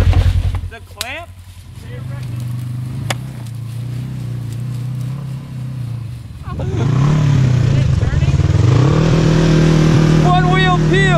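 A Polaris RZR side-by-side revs hard with one wheel spinning, the engine note dropping low then rising into a loud, sustained roar, with shouting voices over it.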